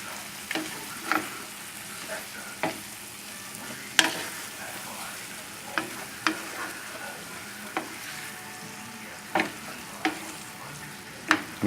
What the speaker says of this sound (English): Now we'll lower the flame all the way down to a simmer